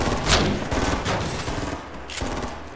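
Rapid bursts of gunfire from a Fortnite match, loud and close, with several volleys firing in quick succession and a brief gap between strikes.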